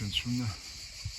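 Cicadas drone as a steady high hiss beneath someone speaking close by, at a sailing anchorage near the sea.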